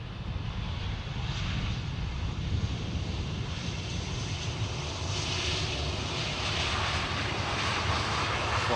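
Fixed-wing aircraft arriving on runway 18R Polderbaan at Amsterdam Schiphol, its engine roar steady and loud throughout, with some wind noise and no talk.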